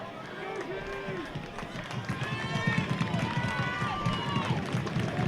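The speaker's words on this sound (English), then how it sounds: "can hear the Conway crowd getting a little excited about this" Home crowd from Conway at a high school football game against Springdale swells into an excited, steady roar of many voices, building louder through the moment with a dense rumble of cheering.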